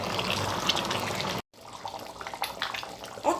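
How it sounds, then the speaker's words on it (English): Water pours into a pot of banga soup, a steady splashing fill that cuts off abruptly, followed by quieter liquid trickles and small clinks. "I'll be adding a little more water and then adding my banga also"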